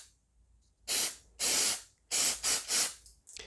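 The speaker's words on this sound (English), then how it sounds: "I'm gonna use some mass airflow sensor cleaner. It's also good for throttle bodies." Mass airflow sensor cleaner is sprayed onto a 2015 Mitsubishi Mirage 1.0 throttle body in five short, sharp hissing bursts, each close and separated by brief pauses.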